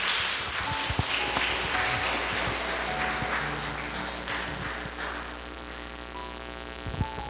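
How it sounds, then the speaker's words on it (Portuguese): Church congregation applauding together during a worship service, a steady wash of clapping that holds throughout, with organ or keyboard tones sustained underneath. "Uma forte salva de palmas para o Senhor Jesus."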